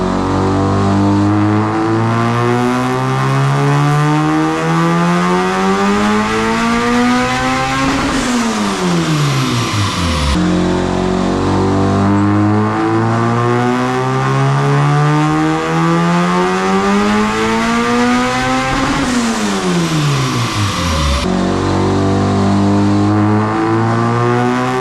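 Loud, continuous pulls of a high-compression turbocharged Honda D16 engine on a dyno, rising harmonics sweeping up through repeated full-throttle runs, each ending in a sharp drop before revving climbs again; no talk.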